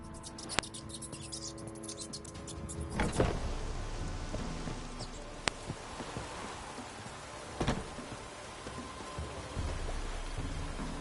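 A downpour in The Witcher 3: Wild Hunt, a steady hiss of rain on surfaces with scattered louder splashes and a few sharp ticks, moderately quiet and continuous throughout, with no voices.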